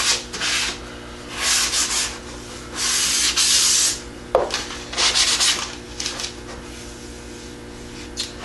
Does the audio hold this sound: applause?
no